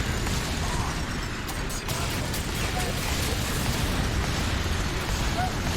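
Rocket launcher explosions go off in the shooter game F.E.A.R. 3, where a mech is also attacking. Dense, continuous blasts and crackling mechanical clatter come through under a voice talking over the game.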